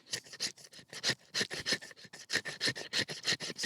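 A steel knife blade, a TJ Schwarz Lost Trail 5, shaves curls from a wooden stick in quick, repeated rasping strokes, each scrape close and crisp with short gaps between.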